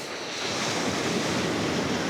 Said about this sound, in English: Oh wow, look at the waves.